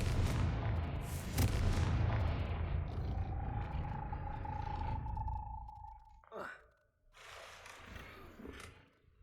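A Confringo spell from Hogwarts Legacy erupts in a loud booming blast with a rumbling tail, followed by a sustained ringing tone that fades, then sharper magical bursts; a voice speaks over the opening.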